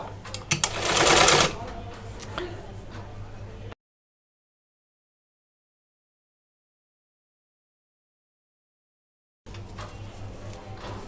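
A sewing machine runs a side seam on a blouse in a short loud burst, then steady stitching continues, stops into silence, and resumes near the end.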